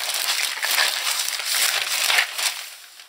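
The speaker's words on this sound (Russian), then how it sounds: "Упаковано в пакетик." A plastic packaging bag from a Kizlyar knife maker crinkles and crackles loudly up close as it is handled and opened, in dense bursts of rustling.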